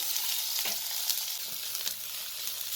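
Aloo seekh kababs frying and being turned in a pan, a dense close hiss of oil with a few soft scraping strokes, no one speaking.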